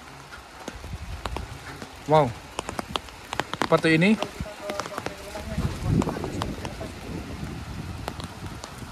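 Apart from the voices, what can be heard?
heavy rain pouring on a mountain village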